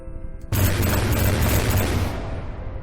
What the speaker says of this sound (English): A very high rate of fire burst cannon.